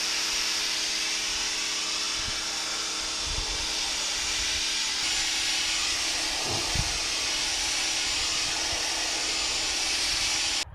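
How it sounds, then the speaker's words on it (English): Low-pressure air nozzle blowing compressed air through the condenser of an 8.1L Suburban 2500 during a cooling system overhaul, a steady broad hiss running throughout with a few faint low thumps. "I have a low pressure nozzle, and I'm going to try blowing everything out the front of it"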